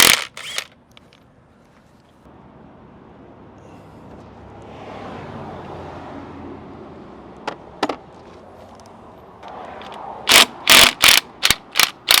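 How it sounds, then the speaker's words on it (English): Ratchet wrench tightening fittings on a SeaStar hydraulic boat steering system: a quiet stretch of faint rustling, then a close, loud run of sharp rhythmic ratchet clicks near the end. "So we're gonna tighten all that stuff up, put some Loctite on it."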